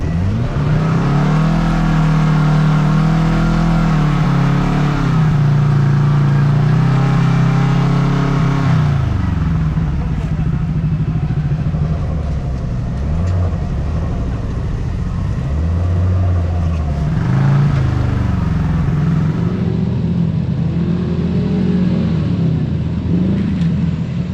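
Kawasaki Teryx5 H2 side-by-side climbing slick rock in low gear and four-wheel drive, its supercharged engine droning loud and close throughout, rising and dipping with throttle, no talk over it.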